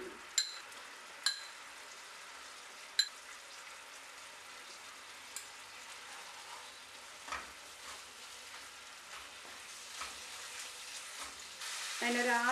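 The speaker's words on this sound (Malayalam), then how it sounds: "ഈ തേങ്ങയും ശർക്കരയും ഈ പഴവും എല്ലാം കൂടെ നല്ലതുപോലെ ഒന്ന് വരട്ടിയെടുക്കണം" Coconut, jaggery syrup and banana stirred and roasted in a pan, giving a low, steady sizzle with a few sharp utensil clinks near the start and a louder scraping stir at the end.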